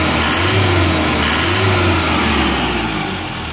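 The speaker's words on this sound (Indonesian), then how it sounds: "Nah, suara mesinnya." A car engine with replaced cylinder liners runs steadily and fairly loud, with a low hum that swells slightly around the middle before easing off toward the end.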